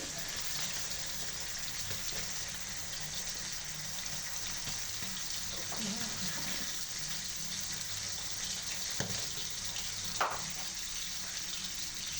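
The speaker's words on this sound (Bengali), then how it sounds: "দেখো, আমি আজকে যে মাছ ভাজি করতেছি, দেখছো? মাছ ভাজি করতেছি।" Fish frying in a pan gives off a steady, fairly quiet sizzling hiss that runs throughout, with a few faint knocks rising above it.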